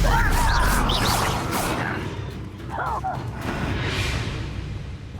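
A Stupefy spell cast in Hogwarts Legacy gives sharp magical whooshes and crackling bursts over a dense, rumbling battle din, fairly loud and close throughout.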